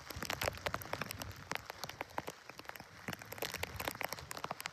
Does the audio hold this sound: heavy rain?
yes